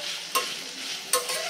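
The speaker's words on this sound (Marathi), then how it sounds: "फक्त साधारण 2 ते 3 मिनिटे आपल्याला या भाज्या परतून घ्यायच्या आहेत" Mixed vegetables for veg pulao sautéed in a pan, a steady sizzle with two sharp scraping stirs standing out, close and fairly loud with no talk.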